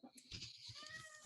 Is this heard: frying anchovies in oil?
no